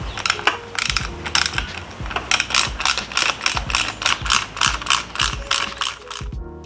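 A ratchet working loose the 4 mm Allen fasteners on the back of a Yamaha XSR900/XSR700 motorcycle speedometer: rapid, close, repeated clicking strokes in quick rhythmic bursts throughout, with no talking.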